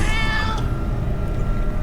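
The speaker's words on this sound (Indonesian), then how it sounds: "Nada yang aneh dari kucing itu" A cat meows as a radio drama sound effect in a horror story about a highway at night, one drawn-out cry at the start over a steady low background hum.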